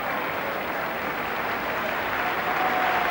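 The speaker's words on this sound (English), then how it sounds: "Off to great applause goes Brian McNaughton, who's worked very hard up front." Stadium crowd at a Hearts football match applauding a substituted player leaving the pitch, a broad, steady wash of clapping from a distance with no voices over it.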